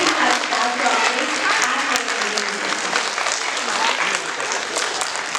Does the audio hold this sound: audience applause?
yes